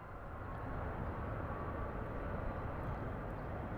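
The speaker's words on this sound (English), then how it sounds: "I can see a A380 British Airways taxiing down." A British Airways Airbus A380 taxis at London Heathrow Airport, heard as a steady, moderately distant engine roar with no voices.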